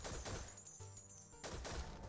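Game gunfire from Infectonator, a fast clattering burst of shots that fades briefly mid-clip and then resumes with a second dense volley, loud and without talk.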